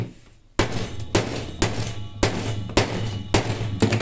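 A hammer strikes about seven times at an even, steady pace, each blow sharp and ringing over a low hum.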